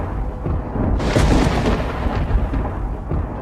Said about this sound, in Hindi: आसमान में बिजली कड़क रही थी।